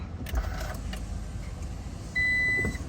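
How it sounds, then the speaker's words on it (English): A 3rd-gen Toyota Tacoma with a kill switch engaged powers up but fails to start. Quiet cabin hum comes first, then a steady electronic tone or chime holds for about a second near the end, with no engine cranking. "Obviously you guys hear power goes to it, but yeah, they can't turn on the car."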